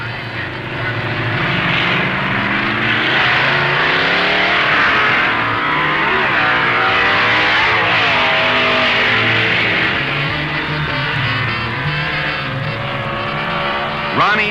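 Drag racing cars roar down the strip at full throttle, a loud, sustained engine howl with shifting pitch sweeps as the cars accelerate past.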